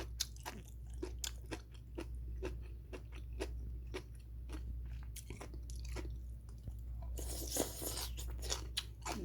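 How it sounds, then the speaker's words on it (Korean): Crunchy radish greens from radish water kimchi are bitten and chewed close up, with a steady series of crisp crunches over a low background hum. "무청도 먹어볼게요."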